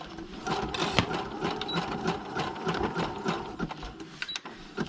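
Sewing machine stitching ruffles onto paper, a steady close mechanical whir and rapid needle clatter with short pauses and restarts, no talk.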